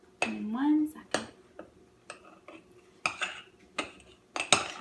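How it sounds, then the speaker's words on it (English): Overnight oats being mixed in a jar with a spoon, giving a series of sharp clinks and scrapes of metal against the container in irregular bursts, close by, with a short vocal sound early on. "I'm gonna mix it a little bit more."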